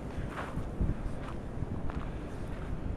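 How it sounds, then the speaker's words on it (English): Steady wind rushing and buffeting against the microphone outdoors, a continuous broadband roar with slight gusts, no voices. "It's really windy."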